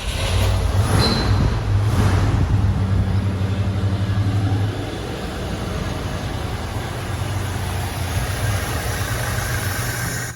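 A 1978 Ford Bronco engine, started cold after being brought in from outside, idles steadily with a low, even rumble close by. A brief rise comes early, then the note settles slightly quieter.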